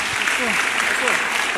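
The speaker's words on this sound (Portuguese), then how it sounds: "Vamos receber a pastora Daniele com uma salva de palmas" A church audience claps to welcome a female pastor, a dense burst of applause under a voice speaking over it.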